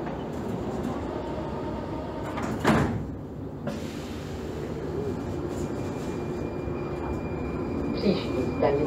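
A Prague metro train's doors slide shut with a brief thump and hiss, heard inside the carriage over steady train hum and ambient rumble.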